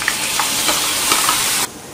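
Chopped tomatoes hit a hot pan of Indian dal tempering with spice paste, setting off a loud, steady sizzle and frying hiss with light stirring scrapes, which cuts off abruptly near the end.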